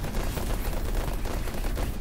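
Gauss cannon fire in the racing game Pacer, a dense continuous barrage of rapid low booming shots running steadily throughout with no pauses.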